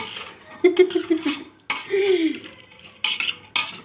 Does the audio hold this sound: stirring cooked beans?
yes